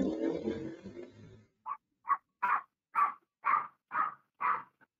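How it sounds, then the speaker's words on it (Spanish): A dog barks about seven times in an even, spaced rhythm, sharp and fairly close, after a stretch of low talk at the start. "Sí, cállate, perro."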